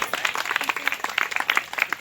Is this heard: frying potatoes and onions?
no